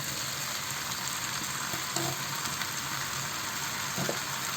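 Tomatoes dropped into shrimp malai curry frying in a pan, giving a steady, close sizzle and hiss throughout with a couple of faint soft plops and scrapes, no voices.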